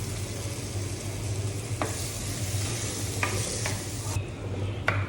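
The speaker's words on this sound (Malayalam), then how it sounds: "അരിഞ്ഞു വെച്ച തക്കാളി ഒന്ന് നന്നായി വഴറ്റണം" Chopped tomatoes with ginger sauté in a hot pan, giving a continuous close sizzle with a few sharp scraping clicks from a stirring spoon at intervals, no voices.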